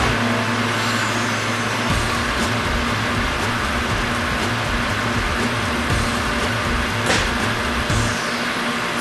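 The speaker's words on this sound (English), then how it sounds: "let's turn on our pump" A water pump runs continuously, pushing flow through a pipe tee set at 90 degrees, giving a loud, steady motor drone and rushing hum with small fluctuations throughout.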